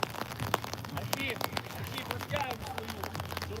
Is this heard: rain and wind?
yes